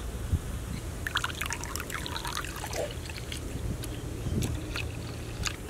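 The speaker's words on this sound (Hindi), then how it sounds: "अंडे में दूध डालना" Milk is poured into eggs for American pancake batter, a light liquid trickle that comes and goes over a few seconds against a faint background hiss, with no talking.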